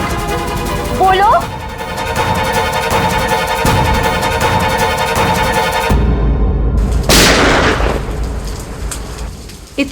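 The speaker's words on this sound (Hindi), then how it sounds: "ये कहीं गोली चली है।" Loud sharp gunshots cut through steady heavy rain and music, with a big burst near the end followed by rumbling noise.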